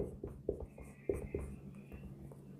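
Chalk or marker scratching out numbers on a board during a decimal number-system lesson, a few short taps and strokes in irregular rhythm, close and fairly quiet with faint voice murmur behind.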